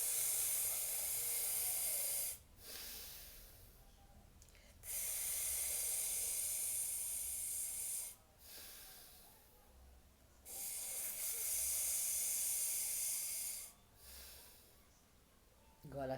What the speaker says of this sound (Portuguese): Você vai trincar os dentes, vai inspirar e vai soltar pelo nariz.